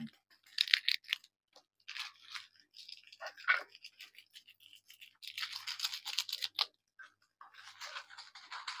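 Close, crisp chewing and crunching of pizza in bursts of bites during an eating challenge, with short pauses between and no talking.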